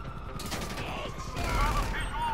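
Rapid bursts of gunfire fired from a vehicle in a video game, steady and fairly loud, swelling heavier toward the end over a constant engine-like background.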